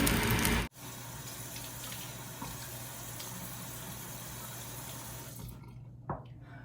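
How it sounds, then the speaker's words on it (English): Warm water runs steadily from a household tap into a sink for face washing, a constant close hiss that stops abruptly near the end, leaving quiet room tone. "Now I can wash my face in the warm water."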